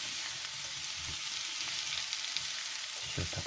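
Carrots and mushrooms fry in a pan for a zucchini and mushroom ragout, giving a steady close hiss with soft low thumps of stirring scattered throughout.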